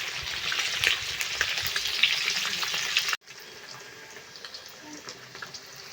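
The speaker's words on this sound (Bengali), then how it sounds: "তেল গরম হয়ে গেছে মাছ দিয়ে দিয়েছি মাছটা একটু হালকা করে ভেজে নেবো" Fish fries in hot oil for a mango-and-shol dish, giving a steady, close sizzle with small crackles that suddenly drops to a much quieter, faint bubbling.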